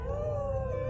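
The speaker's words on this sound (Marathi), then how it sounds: "मधूनच कुत्र्यांचा रडण्याचा आवाज येत होता" A single long, wavering howl holds steady over a low rumbling background, mournful and drawn out.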